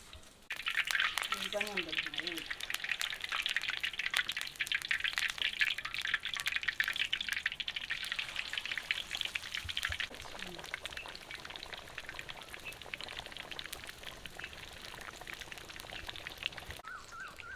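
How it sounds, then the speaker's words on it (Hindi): Fish fries in a large pan of hot oil, village style, with a loud, steady sizzle and crackle that holds throughout, easing slightly partway through, with a few brief clinks and a short voice near the start. "चले तेल हमने डाल दिया, तेल गर्म होने का हम इंतज़ार करते हैं। जैसे तेल गर्म होता है तो हम इसमें फिश छोड़ते हैं।"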